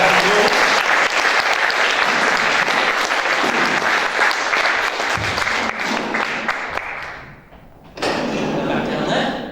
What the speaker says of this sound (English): let's give these three a round of applause as they go back.